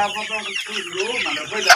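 Chickens on a broiler farm cluck and murmur continuously close by, a dense overlapping flock chatter with a brief louder squawk near the end.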